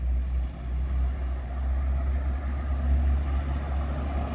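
Two Rápido D'Oeste intercity coaches arriving from a trip at the Viação Cometa garage in Ribeirão Preto, a steady low diesel engine rumble filling the whole stretch with no talk over it.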